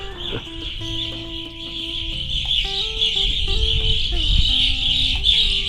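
Busy chorus of grosbeak calls and whistles near bird feeders in Canada, with a steady high chattering and repeated tonal notes throughout.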